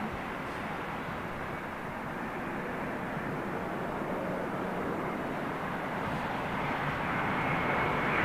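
Egypt Air airliner being pushed back, with a steady, fairly loud jet engine roar holding throughout and swelling slightly toward the end.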